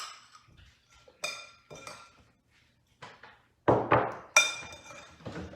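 Quick stirring of baking ingredients, including apple and toppings, in a bowl for fall baking, heard as scattered light clinks and taps of utensil on bowl in short irregular bursts with quiet gaps.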